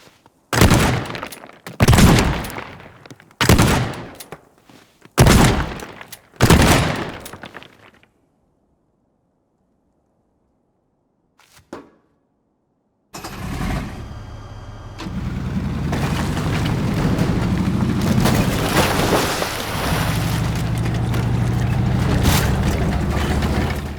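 A tank in the destruction game Teardown fires five heavy booming shots in quick succession. After a silent gap comes a brief clank, then a loud, continuous engine rumble as it drives.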